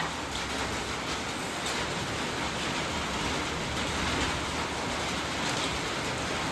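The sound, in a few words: rain falling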